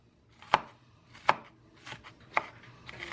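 Knife chopping food on a cutting board during home dinner prep: three sharp, distinct chops spaced unevenly about a second apart, close and clear over a quiet kitchen background.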